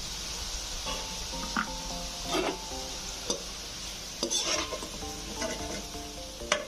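Potato pieces fry with salt and turmeric in a pan, giving a steady close sizzle broken by irregular scrapes and clinks of stirring, with no talking.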